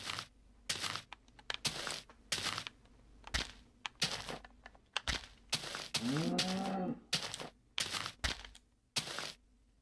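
A steady run of crunchy blocky digging and tapping in Minecraft goes on throughout, with a single low cow moo rising out of it near the middle. No voices are heard.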